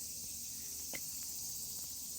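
Insects drone steadily in a Japanese park near Handa, Nagoya, at summer's end. A constant high buzzing fills the whole clip with no pause, even and fairly loud.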